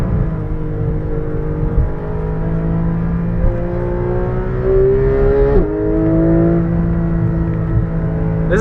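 A Mazda Miata race car engine pulls hard at speed into a corner, a loud close in-car drone with rising whine, a brief dip as a gear shift or lift, then steady power again.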